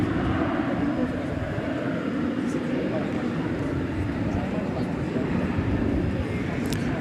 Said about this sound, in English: There's an Airbus A321.